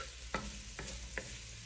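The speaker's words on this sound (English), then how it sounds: "I'm going to go ahead and add my garlic in." Fresh garlic tossed into sizzling onions and jalapeno in a soup pot: a soft, even hiss of frying continues throughout, punctuated by three spaced scrapes of a spoon against the pot, quiet and close, no voices.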